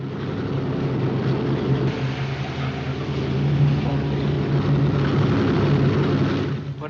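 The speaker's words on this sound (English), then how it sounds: "As soon as the plane goes, Louis." A propeller airplane engine drones continuously at moderate loudness, a steady low hum that swells slightly midway and holds, with no voices present.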